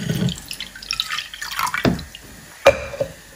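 Water poured from a cup into a bowl of homemade fishball sauce ingredients, a short splashing trickle followed by a few sharp drips, close and fairly quiet.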